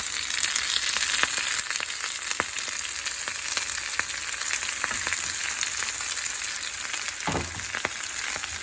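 Chopped Swiss chard sizzles steadily in hot tadka, a constant close frying hiss with scattered pops and crackles and a brief stir near the end, with no voice over it.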